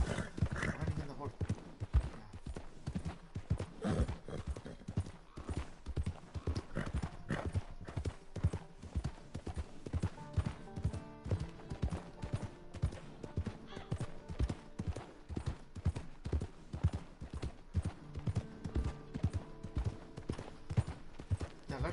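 Horse hooves clip-clop in a steady, rapid rhythm throughout a PS4 video game, with an occasional whinny and several people chatting over the galloping.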